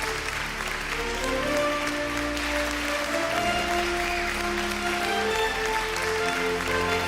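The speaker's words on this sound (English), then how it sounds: "A big round of applause." Applause from the crowd at an influencer awards ceremony rises over loud sustained stage music, the clapping blended under the steady musical backing for the whole stretch.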